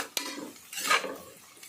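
A spoon stirs onions and mutton masala in a pot for mutton head curry, making a sharp tap and then a soft scraping, sizzling sweep, close and brief.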